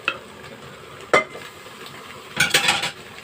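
Browned macaroni being fried and stirred in a pot, with a steady soft sizzle broken by sharp scraping clinks of a utensil against the metal, close and fairly loud, no talking.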